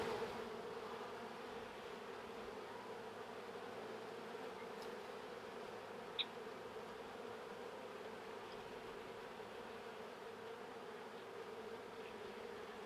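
Honey bees work busily at a hive, a steady, even droning buzz that carries through the whole stretch with no break, plus a single faint tick partway through.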